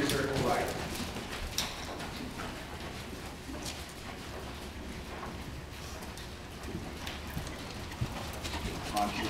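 Horse hooves trotting on an arena surface during a riding lesson, a steady clip-clop rhythm under continuous ambient noise, with a coach's voice talking over it.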